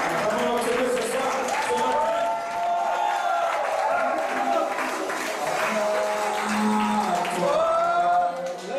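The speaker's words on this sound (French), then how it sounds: "Acclamez notre Dieu ce soir." Church congregation cheering and applauding after a healing, a sustained crowd roar with clapping and raised voices filling the room, loud and continuous with a dip near the end.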